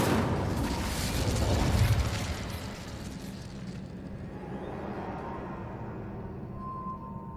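Incendio fire spell in Hogwarts Legacy bursting with a loud roaring whoosh and crackling blast, then fading into a softer lingering hiss and rumble, with no voice over it.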